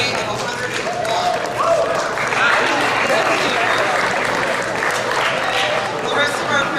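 Applause from the audience at a high school basketball banquet, a steady wash of clapping that carries through the whole stretch, with a voice talking over it at times.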